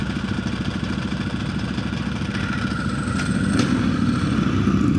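A Ducati motorcycle being ridden, its engine a loud, steady rumble with mechanical clatter and rising intensity toward the end, with no voices heard.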